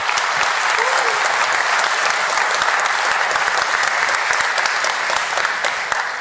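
Loud, dense audience applause at a live conference stage event, continuous close clapping from a large crowd held steady for several seconds.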